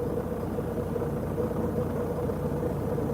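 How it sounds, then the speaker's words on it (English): A truck engine running loud and steady, a low continuous rumble with no changes in pitch, close by and alone without talk. "The truck sounds a little loud today."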